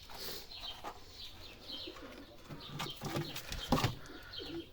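Young tumbler pigeons in a loft, with soft low cooing and scattered wing flutters and rustles, close and fairly quiet throughout.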